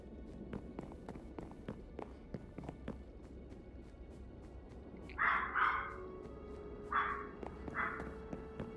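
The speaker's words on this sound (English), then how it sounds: "Doggy is barking." Dog barking in the Minecraft Story Mode video game, a few short muffled barks in bursts around the middle and end over a quiet game-ambience background, with tapping clicks earlier.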